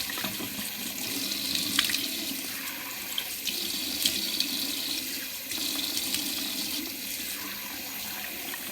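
Tap water running steadily into a sink while a face is rinsed off, a continuous close rushing splash with small irregular spatters as hands move through the stream.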